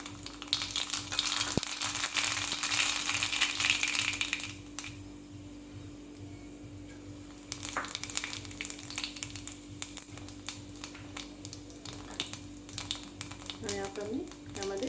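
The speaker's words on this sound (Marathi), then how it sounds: "चला आपण फोडणी तयार करूया." Green chillies sizzle and crackle in hot oil for a tempering for koshimbir salad, a dense, steady frying hiss that eases midway and then returns, with a brief voice near the end.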